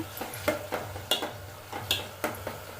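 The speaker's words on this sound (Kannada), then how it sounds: "ಸಾಲ್ಟ್ ಹಾಕಿದ್ಮೇಲೆ ಮತ್ತೆ ಚೆನ್ನಾಗಿ ಫ್ರೈ ಮಾಡ್ತಾಯಿದ್ದೀನಿ ಸೊ ನೀವು ನೋಡ್ತಾ ಇರ್ಬೋದು ಯಾವ ಥರ ಫ್ರೈ ಆಗ್ತಿದೆ ಅಂತ" Mushrooms frying with salt in a pan, a series of spaced scraping stirs against the pan over a faint steady sizzle, close and fairly quiet, no voices.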